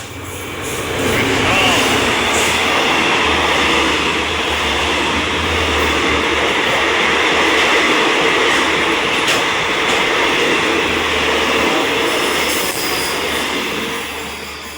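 Special express train 13 passing through Chum Saeng station in Thailand, a loud continuous roar of rolling wagons close by, swelling in quickly and holding steady before fading slightly near the end.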